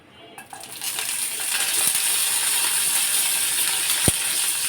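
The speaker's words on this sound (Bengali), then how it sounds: "তেলটা গরম হওয়া পর্যন্ত আমি অপেক্ষা করতেছি প্রথমে আমি দিয়ে দিব শুকনা মরিচগুলো" Dried red chilies drop into hot oil in a frying pan, and a steady broadband sizzle builds and holds, with one sharp clink partway through, close and moderately loud.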